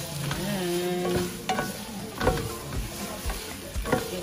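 Homemade longganisa sausage sizzling and frying in a pan as its sweet glaze caramelizes, with steady close sizzle and a few stirring scrapes and knocks, no talk.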